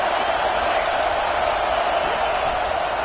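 A home crowd at a football game roars loudly and steadily, a dense wash of cheering that fills the whole stretch without a break.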